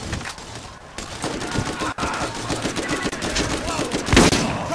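Rapid bursts of gunfire from a Borderlands video game, loud and close, with a short break near the two-second mark and faint voices in the mix.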